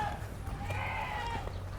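Boer goats on a breeding farm bleat faintly in a wavering cry that runs under a general barnyard murmur.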